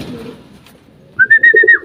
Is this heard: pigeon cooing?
yes